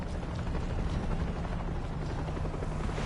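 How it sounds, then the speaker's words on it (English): A helicopter in the video game World War Z flies over a river in New York, its rotor chopping in a continuous, fairly loud mechanical thrum that holds steady throughout with no talk over it. "We got a chopper! It's headed over the river."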